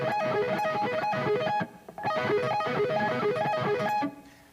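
Metal electric guitar sweep-picked arpeggio pattern with heavy distortion, fast rippling runs of notes repeated continuously, loud and close, with a brief break in the middle and no talk.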